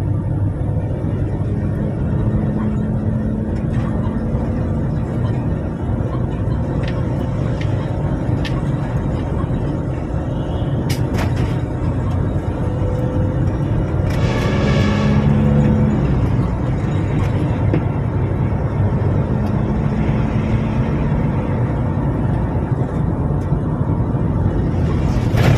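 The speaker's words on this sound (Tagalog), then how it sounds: "Napaka-traffic ng Friday." Heavy Friday road traffic, a steady dense rumble of car and bus engines close by, with brief horn-like tones and passing vehicle swells over the whole stretch.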